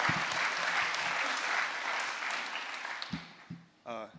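Audience applause for a hackathon team at a closing ceremony, dense clapping from a crowd that thins out toward the end, followed by a few scattered claps and a voice.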